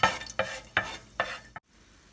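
Cinnamon and cloves fry in oil as a utensil stirs them in a pan, four quick scraping strokes with light sizzling between, fairly quiet and close, then a sudden stop.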